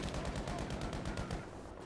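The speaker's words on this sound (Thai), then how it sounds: "ลูกซองบอกก็ปืนกลต่อเลย" Rapid, continuous machine gun fire in the video game Battlefield V rattles in a fast, even rhythm, loud and dense, with no talking over it.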